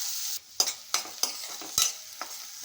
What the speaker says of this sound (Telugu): ఇప్పుడు కరివేపాకు వేగేటప్పుడే ఉల్లిపాయ ముక్కల్ని వేసుకుంటున్నాను. ఉల్లిపాయలు గోల్డెన్ బ్రౌన్ కలర్లోకి వచ్చే వరకు వేయించుకోవాలండి.